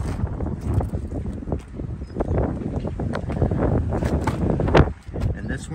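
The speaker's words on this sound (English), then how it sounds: "I do apologize, it is a little windy." Wind gusting outdoors around a 2021 Ford F-150 with a rumbling buffeting on the microphone, under a person talking throughout.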